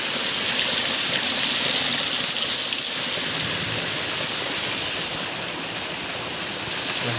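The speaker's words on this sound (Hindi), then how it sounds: "ठंडा वर्षा हो जी" Heavy rain pours down steadily, a loud, dense hiss of drops on surfaces that continues unbroken, with no voices.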